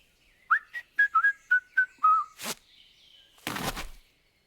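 Whistling at a door in the video game Trüberbrook: a series of short, clear whistled notes, then a couple of soft knocks or thuds nearby, with no speech.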